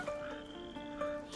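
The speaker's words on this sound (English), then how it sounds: "Nothing. It's just frogs, Hugo." Frogs croak in a night scene from the game A Plague Tale: Innocence, two soft distant croaks about a second apart over a faint ambient background.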